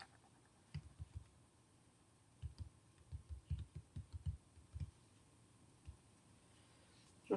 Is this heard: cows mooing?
no